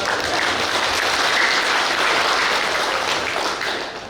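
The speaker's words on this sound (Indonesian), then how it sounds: "Kasih tepuk tangan." A crowd at a village-election outreach meeting in Karawang claps steadily and densely for several seconds, a continuous roar of applause that tapers slightly at the end.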